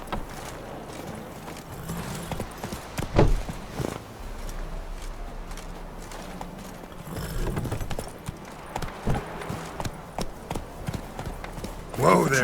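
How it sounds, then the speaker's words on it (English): Horse hooves clip-clopping at a walk in The Witcher 3, a steady rhythm of close hoof falls on the ground with voices speaking over them. "Whoa there, Roach."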